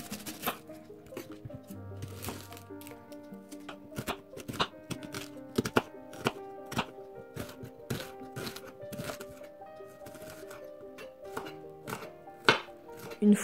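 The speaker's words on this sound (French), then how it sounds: "Il n'y a que les oignons que j'émince plus finement." A knife chops vegetables and onions on a cutting board in quick, irregular bursts of sharp, close taps, with no talking.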